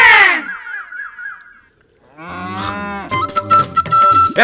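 A cow moos loudly and close, one long call at the start and then a second drawn-out low moo after a short quiet gap, with no speech over it.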